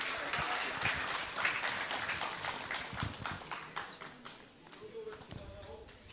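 Audience applause at a public participation forum on the Kenyan finance bill, a steady dense clapping from a crowd that gradually thins and softens toward the end.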